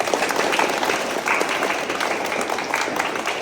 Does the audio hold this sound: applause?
yes